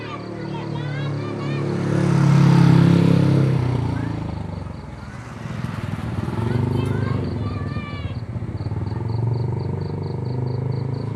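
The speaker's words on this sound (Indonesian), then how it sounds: "motor yang lewat." Motorcycle passing by outdoors, an engine swelling up close and fading away, then another softer pass, with people talking over it.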